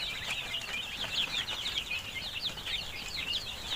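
Native tiger-breed chickens raised in a farm shed, a flock clucking and chirping continuously in busy overlapping calls, moderately close but fairly soft, with no talk.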